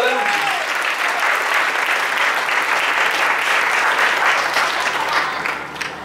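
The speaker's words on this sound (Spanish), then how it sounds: "Den un aplauso al Señor." A church congregation applauds throughout a worship service, steady dense clapping that stays loud and even for several seconds before easing slightly at the end.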